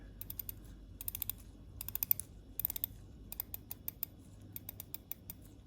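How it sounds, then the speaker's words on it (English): Rotating 60-click bezel on a modded Seiko watch being turned, producing bursts of quick, crisp ratcheting clicks in short rapid runs separated by brief pauses, close and alone. "So now we have a rotating bezel that is also 60 click."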